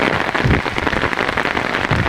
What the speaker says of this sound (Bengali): বৃষ্টি বৃষ্টি দেখেন কি সুন্দর বৃষ্টি